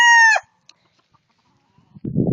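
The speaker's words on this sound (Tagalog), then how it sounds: "dun sa taas, puro manok na panabong" A fighting rooster gives one loud, close crow that cuts off abruptly. Near silence follows, with faint scattered sounds, and then a low rumbling noise rises at the end, on a rural farm in the Philippine provinces.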